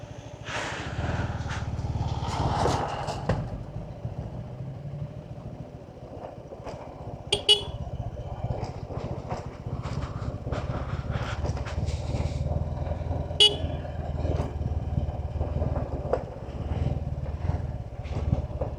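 A vehicle crawling along a narrow mountain road on the way back from Ghalegaun, its engine rumbling steadily while short horn toots sound a few times, no speech.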